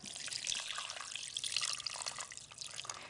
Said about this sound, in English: Just need it covered with water.